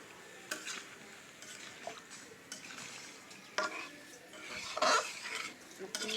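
A spoon stirs free-range chicken and sweet pumpkin frying in a pot, with soft scraping and clinking over a steady low sizzle, fairly quiet and close.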